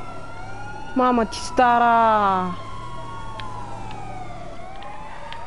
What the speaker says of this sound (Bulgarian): Да ги спра тия сирени.